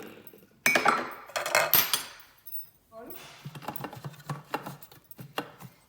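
Five garlic cloves dropped into a Thermomix bowl, giving a burst of close clattering and knocking followed by lighter scattered taps and clinks, with no voice.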